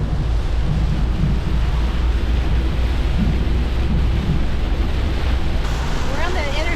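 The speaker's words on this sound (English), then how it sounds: "A whole lot of thunder, lightning," Heavy, constant roaring thunderstorm noise with dense rain and wind rushing against the microphone inside a vehicle on an interstate in Naples, Florida, deep thunder rumbling underneath throughout.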